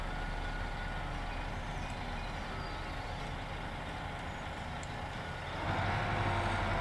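A vehicle in a farming video game backs up with steady reversing beeps over a constant engine drone, moderately loud and close, swelling slightly near the end, no talking.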